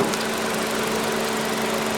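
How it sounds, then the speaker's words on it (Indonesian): Nissan Juke RX Red Edition engine idling with the hood open, a steady close hum with a constant low drone and even vibration, no talk over it. "untuk mesin sudah dinyalakan dan untuk ruang mesin"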